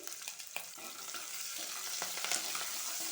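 Small shallots and curry leaves fry in hot oil with a steady, fairly quiet crackling sizzle, dotted with light pops and the occasional stirring tap, no voices.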